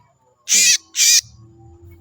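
Two loud, harsh oriental magpie-robin calls in quick succession, each about a quarter second, over a quiet low hum.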